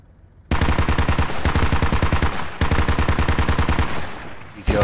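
Automatic weapon fire in the tactical shooter game Squad, sustained loud bursts of rapid shots that break off briefly near the middle and again at the end, with no talk.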